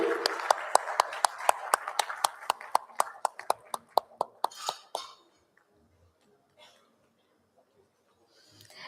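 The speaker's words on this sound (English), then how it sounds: "Can we have a round of applause for a brilliant next-gen session?" A small group at a live AI design debate event in Chandigarh claps in a regular, evenly spaced rhythm of sharp, distinct claps for about five seconds, followed by near silence with faint voices.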